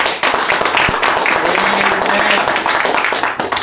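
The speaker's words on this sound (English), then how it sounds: "give the Lord a great big hand clap" A church congregation claps for the Lord, a dense, loud burst of many hands that fills the space, with voices mixed in.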